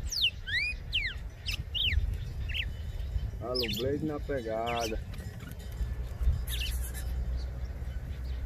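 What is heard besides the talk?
red-cowled cardinal (galo de campina) singing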